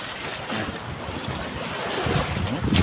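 Wind and big sea waves wash around a fishing boat out on open water at night, a steady broadband rush that swells louder toward the end.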